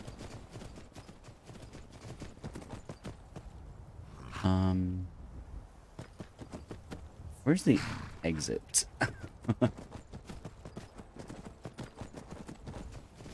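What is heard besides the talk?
horse hooves clip-clopping in video game Skyrim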